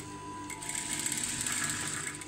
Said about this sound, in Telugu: ఇది ఇలా లైట్గా సన్నగా ఇలా గోరంచ మీద కుట్టుకుంటూ రావాలి.